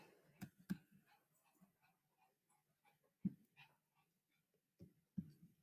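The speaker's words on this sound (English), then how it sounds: "That's my dog." A dog whimpers and whines in a few short, soft bursts with quiet pauses between, faint and nearby in an otherwise quiet room.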